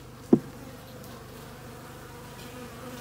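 Honey bees in an opened hive during a first post-winter inspection, a low continuous buzzing hum close by with one brief louder tap early on.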